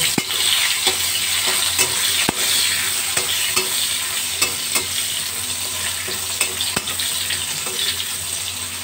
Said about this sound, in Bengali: উচ্ছেগুলো ভালো করে ভেজে নেব